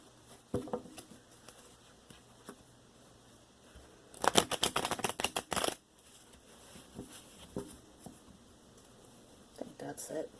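A brief burst of rapid riffling tarot card shuffles in the middle, surrounded by quiet handling noises and soft taps.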